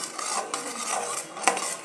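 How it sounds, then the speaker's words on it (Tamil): Banana halwa with sugar being stirred in a pan, a spoon scraping and clinking against the metal in quick close strokes over a soft sizzle, with one sharper knock near the end. "நமக்கு தேவையான அளவு சுகர் சேர்த்துட்டு நல்லா அதை கிண்டணும்"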